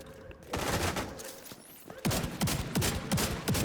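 Gunfire in the shooter game The Division 2, with bursts of rapid shots and a run of heavy, evenly spaced rounds near the end, loud and close.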